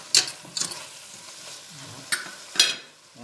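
Couscous chicken ingredients are stirred in a pot over low heat, a spoon scraping in four distinct sharp strokes over a soft, quiet sizzle, close and with no talk.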